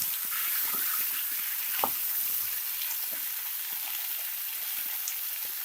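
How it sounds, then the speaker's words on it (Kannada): Chicken with salt and turmeric fries on high flame, a dense, steady hiss and crackle of sizzling oil close up, running continuously with faint scattered pops and no talking. "ಇದು ಹೈ ಫ್ಲೇಮಲ್ಲಿ 5 ನಿಮಿಷ ಚೆನ್ನಾಗಿ ಫ್ರೈ ಮಾಡ್ಕೊಬೇಕು."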